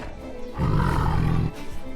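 A tiger in the Minecraft video game lets out a loud, sustained roar of about one second, rising in the middle of the clip over a quieter game backdrop.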